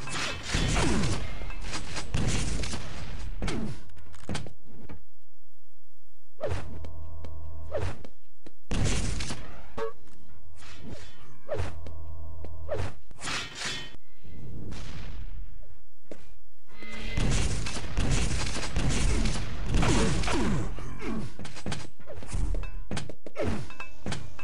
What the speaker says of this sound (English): So Matr0x with those grenades, very, very nicely placed.